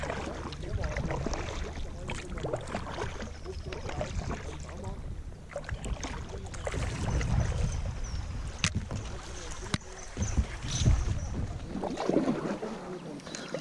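A kayak paddles along a river side arm, with close water splashing and dripping from the paddle strokes under wind noise on the microphone and occasional knocks against the boat.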